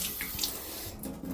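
Water gushes from a tap into a sink in an industrial-style off-grid bathroom, a steady close splashing rush with no voices.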